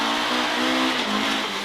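A Ford Escort MkII rally car powers through a long right-hand bend on a Donegal stage, its engine a loud, sustained high-revving wail that rises and dips slightly while the car understeers through the corner.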